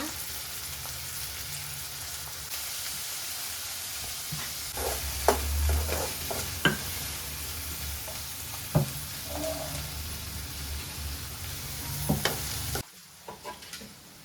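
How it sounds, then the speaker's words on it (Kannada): Sliced round onions sizzle steadily in hot oil for a vegetable dish, with occasional stirring clinks and scrapes over the constant frying hiss, stopping abruptly near the end. "ಎಣ್ಣೆ ಬಿಸಿ ಆದಮೇಲೆ ಉಳ್ಳಾಗಡ್ಡೆ ಹಾಕ್ಕೊಂಡು ನೋಡ್ರಿ."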